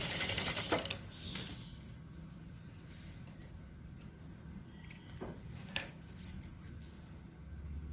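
A sewing machine stitches the main fabric piece onto a zipper in short uneven bursts of rapid mechanical clatter, with ticks and clinks between runs, fairly close and moderately loud, with no talking.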